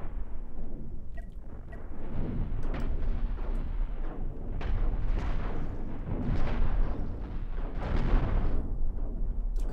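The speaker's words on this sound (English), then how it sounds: "Target the cockpit and fire." Spaceship weapons in the space game Cosmoteer pound away at an enemy cockpit, a dense, continuous barrage of booming blasts and crackling impacts that rolls on steadily and loudly throughout.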